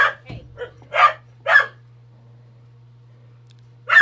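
A dog gives a handful of sharp, loud barks in quick succession, then pauses before one more bark, over a steady low hum indoors.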